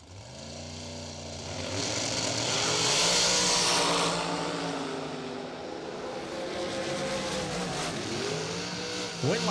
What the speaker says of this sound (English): 2011 Racecraft chassis dragster taking on Scott Albrecht.